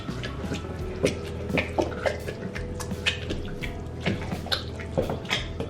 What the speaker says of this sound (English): now let's give that a stir